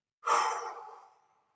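A long, soft exhale released during a calming relaxation breathing exercise, one breathy sigh rising quickly and fading gradually over about a second, close and alone.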